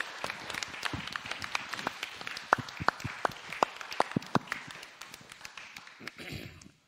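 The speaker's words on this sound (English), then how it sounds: "So let's give them a big applause." Scattered clapping from a conference audience at openSUSE Conference 2022: sharp individual claps at a moderate distance, thinning out and fading toward the end, with some murmur underneath.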